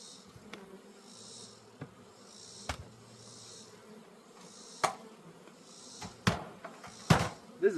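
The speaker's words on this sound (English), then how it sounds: "There are so many bees in here." Honeybees buzz softly around a busy hive, with bees bearded up on the bottom, broken by a few sharp knocks and clicks of hive handling.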